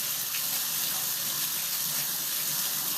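Tap water runs steadily into a tub for a dog's bath, a continuous close hiss and splash with no pauses and no talk.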